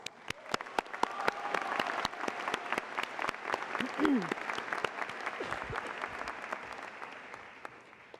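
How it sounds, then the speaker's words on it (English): Graduation ceremony audience applauding throughout, a dense wash of clapping with some louder individual claps standing out, and a brief voice or cheer midway. "Everyone, please give one more round of applause."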